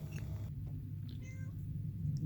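A cat gives a few short, faint meows over a low rumbling background in Utah, with brief pauses between the calls.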